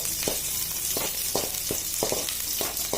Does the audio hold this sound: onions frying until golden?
yes